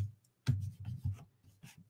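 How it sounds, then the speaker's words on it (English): A dry erase marker squeaks and rubs across a practice board in a few short strokes with brief pauses between them, close and quiet. "this is able to use with any dry erase board marker"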